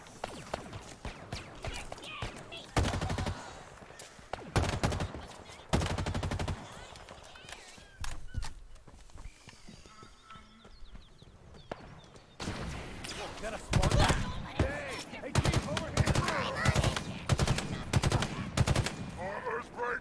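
Shotgun blasts and other gunfire in a Halo Infinite match, coming in separate bursts with gaps between them and a denser run of shots near the end, with a voice talking at points across the stretch.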